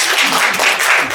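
Audience applause from a student forum on Korean unification, steady dense clapping filling the whole short stretch at a loud, even level without pause.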